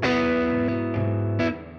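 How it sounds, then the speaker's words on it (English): An electric guitar played through an Origin Effects Halcyon Green Overdrive pedal rings out with a sustained, richly overdriven chord, then a short new attack near the end, loud and close with no voice. "I'm here with the Halcyon Green Overdrive."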